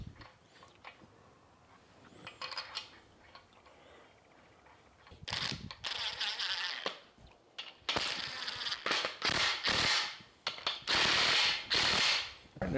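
Engine connecting rod bolts are fitted and ratcheted tight on a rotating assembly during an engine build, heard as bursts of close metallic ratchet clicks in quick clustered runs with brief pauses between.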